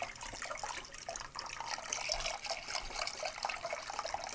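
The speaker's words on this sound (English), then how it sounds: "Gonna add even more milk," Milk poured slowly into a bechamel sauce makes a steady splashing trickle that runs unbroken and fairly loud throughout, with no voices.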